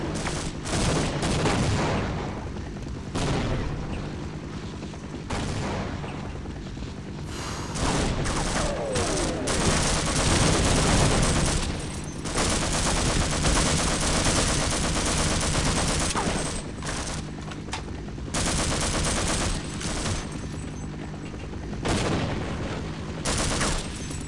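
Rapid bursts of gunfire in the video game Half-Life, dense volleys and automatic fire crackling almost continuously and loudly, with brief gaps between barrages.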